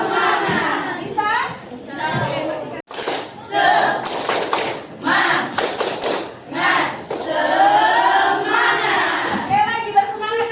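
A class of schoolchildren does the tepuk semangat spirit clap together: loud group chanting and shouts interleaved with rhythmic claps and thumps, close and lively, with children's voices throughout.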